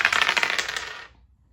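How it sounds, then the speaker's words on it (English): Dice rattle and tumble in a quick burst of light clicks and clatter, close and clear, fading out within about a second with no talk over them. "let's roll these dice to see what our numbered shuffle is for Aries season"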